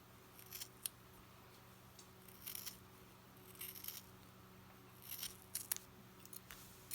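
Scissors cut through knitted fabric to steek a sleeve, making about a dozen quiet, close crunchy snips in small irregular bursts against a near-silent room.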